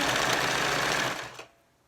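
A sewing machine runs continuously stitching the back seam of a single-strap top, with backstitching at the start and end, then stops abruptly and falls quiet with a faint click after.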